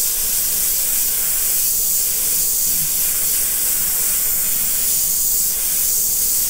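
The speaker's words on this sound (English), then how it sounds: "This is the No Name Airbrush by Spray Gunner" A No Name airbrush by Spray Gunner spraying paint for graffiti on canvas, a loud continuous airy hiss held steady for the whole stretch with no pauses and no voices.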